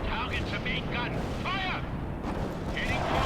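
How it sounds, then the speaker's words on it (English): Missile strikes slamming into tanks in the strategy game World in Conflict, heard as a dense, loud rumble of explosions and gunfire beneath overlapping battlefield voices. "Who dropped a fucking missile on my tanks?"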